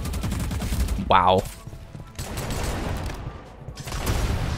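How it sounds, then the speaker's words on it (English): Sawed-off shotgun blasts in a Roblox first-person shooter come in several rapid, loud bursts separated by brief pauses, with a single short spoken exclamation between them. "I know it's a sawed-off, but like, holy, this gun is trash."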